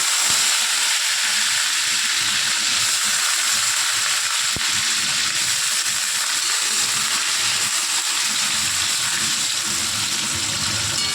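Onions sizzling in hot oil with cinnamon and cardamom for Bangladeshi tehari, a steady broadband frying hiss that holds evenly throughout, close and fairly loud, with no talking.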